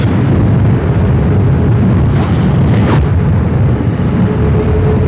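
Loud, steady headwind buffets the microphone while riding an OOTD T10 electric scooter at speed, a continuous roaring rush with low gusty rumble and no voice.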